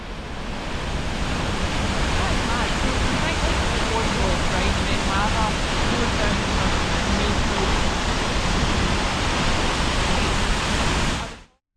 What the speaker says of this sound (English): I'll show you the waterfall